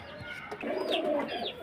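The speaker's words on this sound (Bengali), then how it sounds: "এক পেয়ার ম্যাট্রাস পায়রা দেখুন খুব সুন্দর কোয়ালিটির সুন্দর কালারের পায়রা" A pair of pigeons coos softly at close range, a low rolling call rising in the middle of the brief stretch, with faint background noise and no speech.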